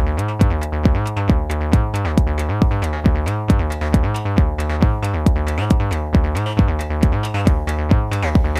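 A modular synthesizer voice run through a VCA and filter plays a steady, repeating sequence of plucky notes with sharp attacks and short decays, loud and rhythmic, with no voices.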